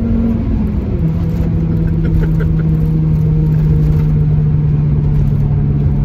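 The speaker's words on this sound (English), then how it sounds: "I'm gonna wait for the road to straighten out and then I just pin the throttle" A non-turbo Volvo 850 engine drones steadily at full throttle in third gear, its tone holding and slowly climbing as it accelerates hard, loud and close throughout.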